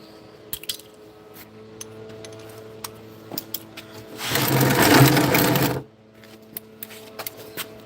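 A socket on a long bar with a swivel tightens a bolt: scattered metallic clicks and taps, then a loud, rapid burst of ratcheting lasting over a second before the clicks thin out again, no speech.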